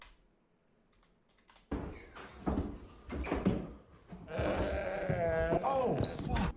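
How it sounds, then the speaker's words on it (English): An eerie, goat-like bleat sounds inside a house during a Ouija board session, a wavering, drawn-out cry rising near the end, amid scattered knocks and excited voices talking. "It legitimately sounded like there was a goat in the house."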